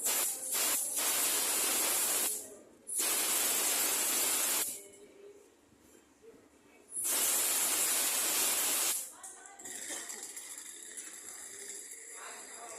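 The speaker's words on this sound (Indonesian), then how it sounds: "Terus pertama itu kita bersihkan dulu menggunakan angin. Kita bersihkan kotoran atau serbuk dari gergajinya ya." Compressed air blasting sawdust out of a saw, three long loud hissing bursts separated by pauses, then a softer lingering hiss.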